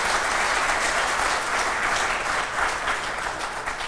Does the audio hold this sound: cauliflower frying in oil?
no